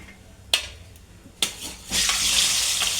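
Potato pieces for aloo kurma slide into hot oil with two sharp splashes, then a strong, steady frying sizzle builds and holds close up with no talk.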